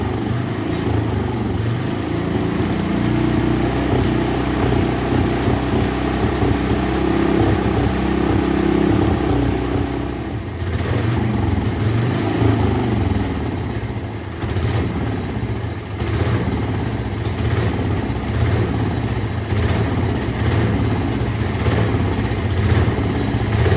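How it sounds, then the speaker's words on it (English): A vintage 1960s Coot ATV engine runs steadily and loud throughout, a rough small-engine drone with a slight change in tone about halfway through and no voices. "all of a sudden the electric start wanted to party and it fired right up"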